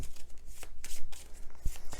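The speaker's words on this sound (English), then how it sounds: "You shuffle them up" A small deck of Star Realms cards being shuffled by hand, a quick run of papery riffles and soft slaps, close and fairly quiet.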